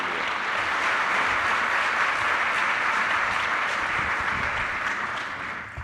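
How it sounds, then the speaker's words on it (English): An audience claps for panel leaders at a conference session, a loud, sustained wash of applause that fades slightly at the end. "maybe a big round of applause here for our leaders"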